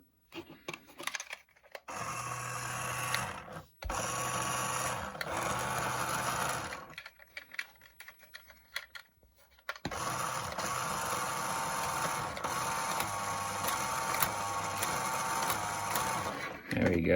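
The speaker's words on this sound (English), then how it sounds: "let's lift it up. Get those wheels spinning" A small electric motor whines steadily as a toy RC car's wheels spin freely while lifted off the ground, running in bursts with brief pauses before a longer continuous run.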